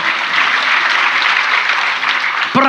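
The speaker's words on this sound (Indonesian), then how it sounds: "Kita beri tepuk tangan dulu." Congregation applause at a church service, a full steady burst of clapping that ends as a voice starts speaking.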